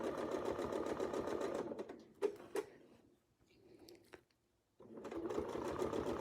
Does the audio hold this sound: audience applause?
no